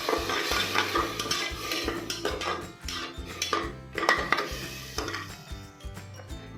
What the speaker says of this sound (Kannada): ಹಾಕ್ಕೊಂಡು 2 ಮಿನಿಟ್ಸ್ ಚೆನ್ನಾಗಿ ಫ್ರೈ ಮಾಡ್ಕೋಬೇಕು.